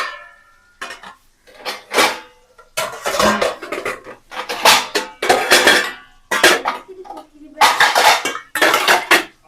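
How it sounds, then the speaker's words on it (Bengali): Washed plates, bowls and cutlery clatter and clink as a full basket is unloaded by hand, a close run of irregular metallic and ceramic bursts with short pauses between handfuls. "রাত্রে কতগুলো থালা বাটি ধুয়ে রাখা হয়েছে দেখছেন, ঝুড়ি পুরো ভর্তি। এখন এটাকে খালি করতে হবে আমার।"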